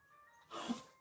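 A single short throat clearing up close, a rough burst after a quiet indoor lull, with nothing else over it.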